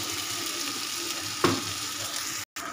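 Fish heads frying in cooked-down spice masala in a pan, for a mung dal dish: a steady close sizzle, one sharp splash-like crackle midway, and a brief cutout near the end.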